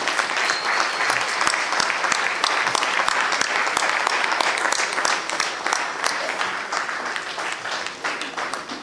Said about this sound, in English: I think we should clap for both of them to come on stage.